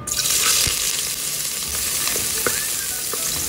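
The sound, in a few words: ginger frying in hot oil in a pot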